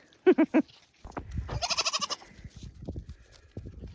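Goats on an Alaskan farm bleat close by in spring: three quick sharp cries, then a longer trembling bleat, followed by softer scattered bleats and rustling movement.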